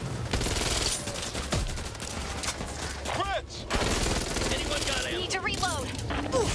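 Gunfire in Back 4 Blood: rapid bursts of close automatic shots rattling almost nonstop, mixed with sharper single cracks and clanking game effects, while people talk over it.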